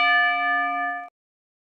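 A single bright bell strikes once with a clear, ringing metallic tone. It holds steady for about a second, then cuts off abruptly into silence.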